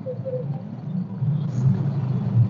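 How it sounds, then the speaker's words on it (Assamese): Tempos, scooters and bikes rumble along a busy, waterlogged city road in poor condition, giving a low, steady traffic drone that swells slightly toward the end. "এই টেম্পুসমূহ কেনেধৰণে চলি আছে পানীৰ গাড়ী মানুহৰ গাড়ী স্কুটাৰ বাইক"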